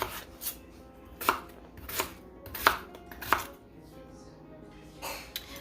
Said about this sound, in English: I cut these a little on the small side just because I wanted to make sure that they actually get done before dinner time